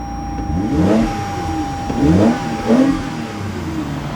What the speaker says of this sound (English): That is a Camry and it's got an exhaust.